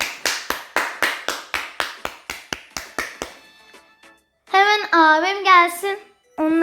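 Hands clap about fourteen times in a quick steady run, close and loud, to celebrate a new Brawl Stars season; a voice follows afterward.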